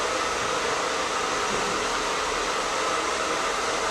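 Hair dryer blowing hair dry while a vent brush works through a short graduation haircut, a steady loud constant rush of air that stays even throughout with no talk.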